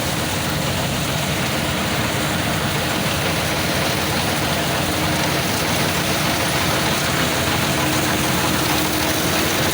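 Engine of a rice harvesting machine working in a sunny village paddy field, a steady loud broadband roar with low rumble running continuously throughout, no speech.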